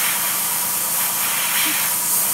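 An airbrush running at 30 PSI sprays paint onto a scale model, giving a loud, steady, continuous hiss up close with no breaks and no voices.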